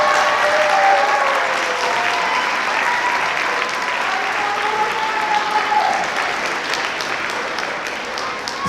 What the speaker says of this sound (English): So you have a huge round of applause for Mrs. Flook and 6th grade band.